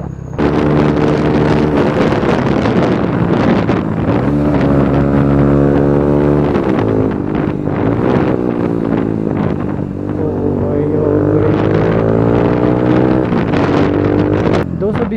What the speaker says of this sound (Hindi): आवाज कैसी लगी बाइक की?